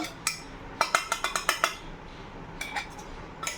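A metal spoon scrapes and clinks against a pan while stirring fried chicken, a quick run of sharp taps followed by a few more scattered knocks, close and clear with no talk.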